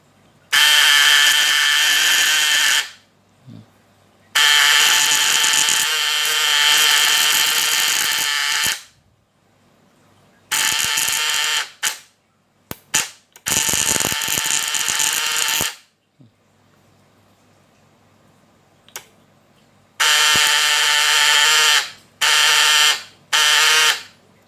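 Homemade primer-type electric fish stunner crackling out loud, harsh buzzing bursts of output popping that switch on and off in several long and short stretches with quiet gaps between.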